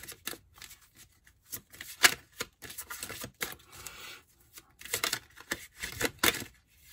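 Thin cards are shuffled and riffled in short, uneven bursts of crisp flicking and snapping, close and fairly quiet, with brief pauses between the bursts.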